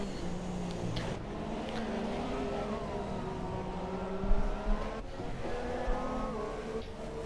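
F1 cars racing in Shanghai in a video game, a McLaren and a Williams battling, engines droning steadily at high pitch with shifting whines and a louder surge midway.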